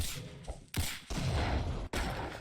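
Pistol gunfire in the Roblox game Arsenal: a few loud, sharp bursts separated by brief gaps, with no talking over them.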